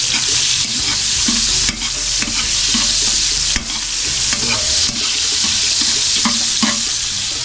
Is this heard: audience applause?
no